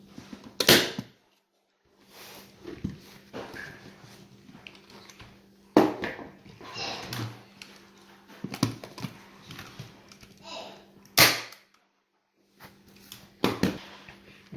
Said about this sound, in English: and then you staple the side as well